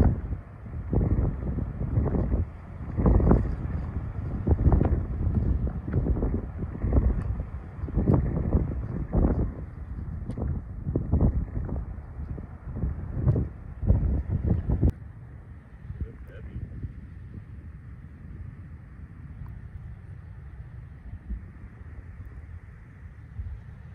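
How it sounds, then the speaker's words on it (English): Wind gusts buffet the microphone outdoors on an Arizona archery mule deer hunt, a loud rumbling rush with strong bursts during the first fifteen seconds that then settles into a softer, steady blow. "It's pretty windy."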